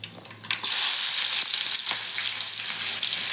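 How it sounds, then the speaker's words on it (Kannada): Cucumber pieces tempering in hot oil with cumin and mustard seeds give a loud, steady sizzle that starts abruptly after a few soft clicks and continues close up, with occasional stirring. "ಈಗ ನೋಡ್ರಿ ಇಲ್ಲೇ ನಮ್ಮ ಮಮ್ಮಿಯವರು ಸೌತೆಕಾಯಿ ತಾಳ್ಸಕತ್ತಾರ್ರಿ ಈಗ ಎಣ್ಣೆ ಜೀರಿಗೆ ಸಾಸಿವೆ"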